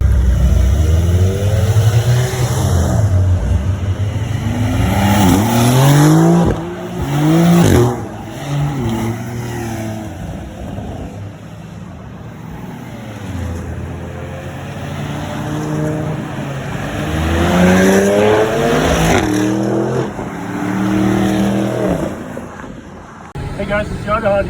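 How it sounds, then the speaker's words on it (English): A 2023 Porsche Cayenne GTS drives laps on the New Hampshire Motor Speedway track, its engine droning and rising under acceleration, with people talking over it almost throughout. "we're driving the new 2023 Porsche Cayenne Turbo, or excuse me, Porsche Cayenne GTS"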